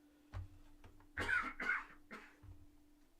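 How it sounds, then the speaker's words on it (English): A person recovering from a cold and flu coughs away from the microphone: a few hacking coughs in quick succession, somewhat distant and moderately quiet, over a low electrical hum. "Going to go off screen and cough for another second."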